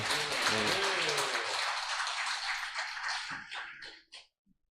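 A church congregation at a thanksgiving service gives a loud round of applause that thins out and dies away into a few last scattered claps, with some voices mixed in.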